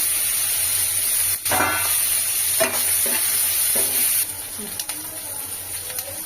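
Capsicum, ginger and garlic are stir-fried for chicken Manchurian: a bright steady sizzle runs throughout, broken by several scraping spatula strokes and clatters against the pan, easing slightly toward the end.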